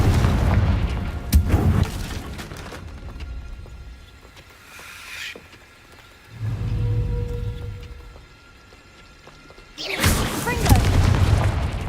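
Confringo fire spells explode in Hogwarts Legacy, giving three heavy, rumbling booms at the start, middle and end, each a deep sustained blast separated by quieter game ambience.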